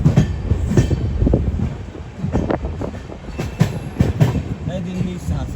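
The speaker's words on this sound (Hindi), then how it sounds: "उधर से भी आई थिंक कोई ट्रेन निकल रही है" Passing train seen from aboard the Amrit Bharat Express near Ghaziabad: steady rumbling roll with clattering bursts from the train alongside, plus muffled voices in the coach.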